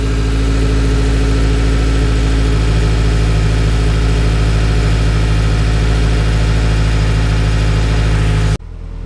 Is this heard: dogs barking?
no